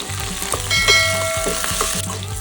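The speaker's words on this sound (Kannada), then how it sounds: "ಈ ಮೂಲಂಗಿನ ಸ್ವಲ್ಪ ಕೆಂಪುಗಾಗೋ ತನಕ ಎಣ್ಣೆಯಲ್ಲಿ ಫ್ರೈ ಮಾಡ್ಕೊಬೇಕು" Radish pieces for sambar fry in hot oil with a steady, close sizzle, broken by several quick stirring scrapes in the pan.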